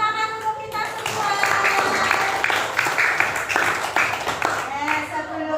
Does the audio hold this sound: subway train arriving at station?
no